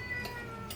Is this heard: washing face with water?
no